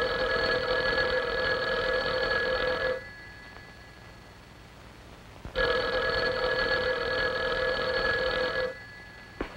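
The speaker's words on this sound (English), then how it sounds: "our phone is working perfectly. Can't you hear it ring?" An old telephone bell rings in two long bursts, each a steady, loud ring about three seconds long with a quiet pause between them, and a brief click at the very end.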